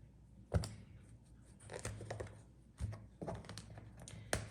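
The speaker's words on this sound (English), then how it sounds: "We're going to cut the deck 3 times." A Rider-Waite tarot deck is cut three times, giving a few quiet, close card slaps and soft shuffling taps separated by short pauses.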